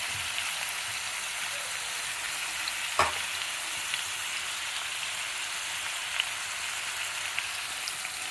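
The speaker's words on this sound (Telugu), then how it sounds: "బాగా వేగాలండి" Mutton nalli pieces with turmeric frying and being stirred in a pan, giving a constant soft sizzle with one sharp utensil knock near the middle and a few faint scrapes, no speech.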